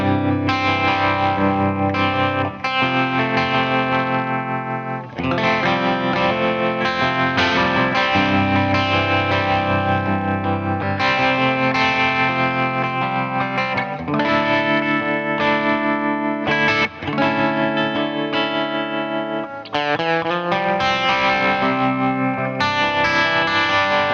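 Electric guitar played through a tremolo effect pedal, sustained chords pulsing with a wavering, shimmering texture, loud and close for over twenty seconds with brief pauses between phrases.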